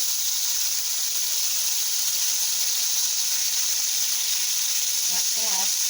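Beef slices for bistek fry in a pan, giving off a loud, steady sizzle that carries on without a break, with a brief faint voice near the end.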